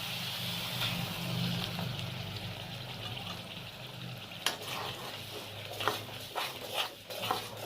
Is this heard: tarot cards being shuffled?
no